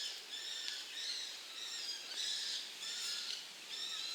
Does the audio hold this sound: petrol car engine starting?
no